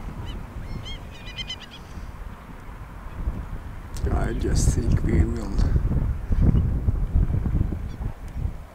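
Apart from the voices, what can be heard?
Steller's eider birds calling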